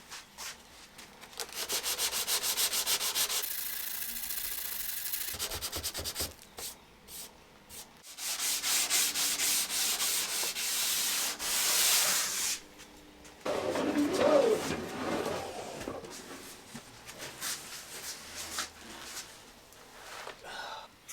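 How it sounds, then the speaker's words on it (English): Repeated long passes of hand sanding on a 1920s wooden roll top desk, a rough scratchy rubbing in several bursts separated by pauses, with a pigeon cooing faintly in the background. "now I need to sand this whole thing"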